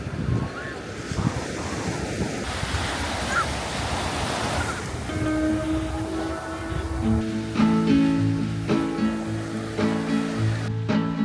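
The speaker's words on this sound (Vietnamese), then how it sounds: "Thì bữa nay tụi mình ra biển An Bàng thì thấy cũng vui mọi người" Surf rolls onto An Bang beach near Hoi An as a steady, loud wash of waves and wind buffeting the microphone, and a song with a melody starts partway through.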